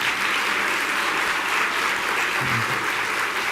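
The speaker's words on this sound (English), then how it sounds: "Can we please give them a round of applause?" A standing audience of guild members gives a sustained round of applause at an awards luncheon, a dense steady wash of many hands clapping throughout, loud and even from start to finish.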